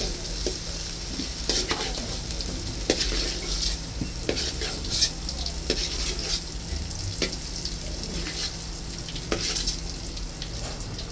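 Potato pieces fry and sizzle in hot oil in a pan for aloo dum, with a steady crackling hiss. Regular clinks and scrapes of stirring break through every second or so, close and clear.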